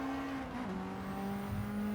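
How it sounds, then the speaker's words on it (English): A 1995 Lancer Evo III GSR sliding on the Tokyo Expressway circuit in Gran Turismo 7, with a sustained engine drone and a tonal tire squeal that bends in pitch as the car slides. "The car's just sliding."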